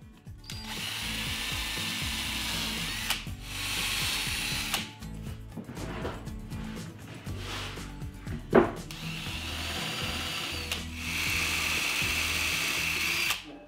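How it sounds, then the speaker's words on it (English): A power drill whines in long bursts, biting through plywood with grinding, ratcheting pulses, pausing between holes; no voices. "I'll be drilling through the plywood"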